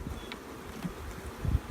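Honey bees drone in a queen-rearing colony with two frames of bees, a close, steady buzzing hum that swells slightly toward the end, with no talking.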